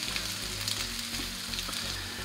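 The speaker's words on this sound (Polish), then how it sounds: "Tu koncentrat się podsmaża." Tomato paste sizzles and fries with onion in a pan, a steady close crackle with faint stirring beneath it.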